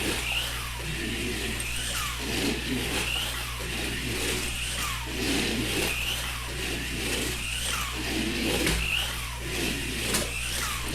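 A small model race car, a midget fitted with a ball bearing motor, whirs in repeated passes around a track, its faint whine rising and fading every second or so over a steady low hum.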